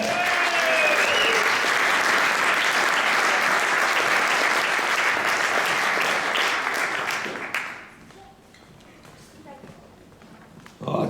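Loud crowd applause and cheering for a kayaker at an awards event in Ljubljana's Old Power Station hall, a dense continuous roar of clapping that cuts off sharply about three quarters through, leaving a quiet room.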